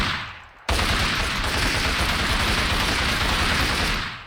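An AK-ammo assault rifle from Minecraft's Flan's Mod fires a sustained, rapid automatic burst that starts abruptly after a short pause and stays loud and close until the end.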